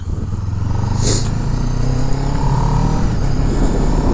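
Kawasaki Z7 Hybrid motorcycle cruising through a park, a loud close steady engine and road drone with wind rush, no shifts or revving.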